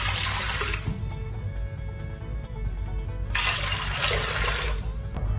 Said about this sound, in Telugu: సేమ్ ఇదే కప్పుతోటి నేను 2 cups వాటర్ వేస్తాను